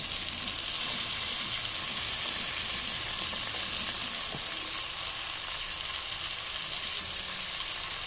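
Mackerel coated in masala with capsicum, coriander and mint leaves fries in hot oil, giving a steady, close, continuous sizzle with no talking.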